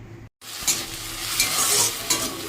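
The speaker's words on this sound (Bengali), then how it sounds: "এই শাকটা ছেড়ে ফেলেছি, ভাজা হচ্ছে।" Water spinach frying in hot oil in a pan, a steady close hiss of sizzling with a few scraping stirs, heard alone without any talk after a brief cut at the start.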